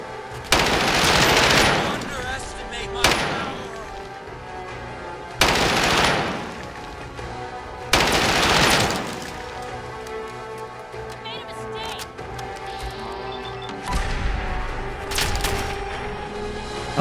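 Repeated bursts of gunfire from Fallout 4, modded with Enclave player quests, ring out loud and close in several separate volleys over a steady game background, with short pauses between them.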